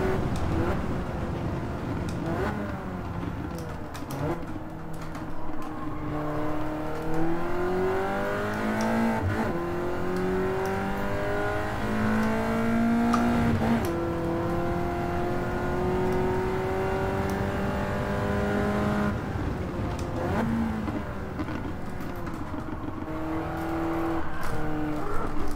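A race car engine in the Gran Turismo 7 video game drones loudly and continuously, its pitch rising through the gears and dipping with shifts, sustained throughout with no speech.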